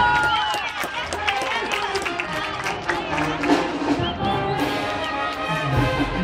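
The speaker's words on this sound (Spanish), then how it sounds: "Pedimos un aplauso para este gran equipo." Applause and cheering for the Astilleros youth team at a sports match: a crowd clapping in a dense, busy patter with shouts and voices mixed through, fairly loud and continuous.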